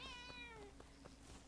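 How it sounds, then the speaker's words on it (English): A pet cat gives a short, faint meow that slides downward in pitch, followed by a few soft knocks in a quiet room. "Sorry, that's my cat."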